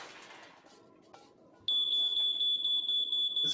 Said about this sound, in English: a smoke alarm.